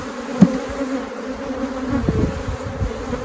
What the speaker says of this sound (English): Shake more bees in that box.